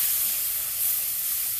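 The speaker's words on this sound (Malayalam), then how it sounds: "നമ്മൾക്ക് അല്പം ഈ തേങ്ങാപ്പാൽ ഇത്തിരി അങ്ങോട്ട് ഒഴിച്ചു കൊടുക്കാം." Coconut milk splashed into a hot pan of ingredients frying in coconut oil for a duck curry, giving a short, steady, bright sizzling hiss close by, with no talking.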